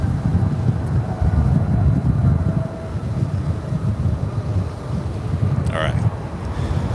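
Strong gusts batter an outdoor camera microphone at a plane-spotting spot beside LAX, a loud low rumble that stays constant throughout, with a brief higher whine near the end.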